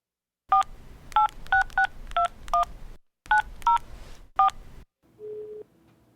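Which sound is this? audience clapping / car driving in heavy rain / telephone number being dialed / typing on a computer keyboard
telephone number being dialed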